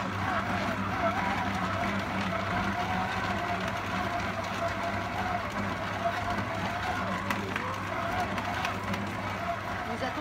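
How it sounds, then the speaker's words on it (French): A stand mixer with a dough hook kneads brioche dough at low speed as butter is added bit by bit, giving a continuous, even motor drone with a rhythmic churning underneath. "Et maintenant, petit à petit, je vais venir y ajouter mon beurre et pétrir pendant 10 minutes."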